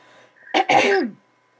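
A single close, sharp throat-clearing cough, two quick rasping bursts, then quiet with a faint background hum.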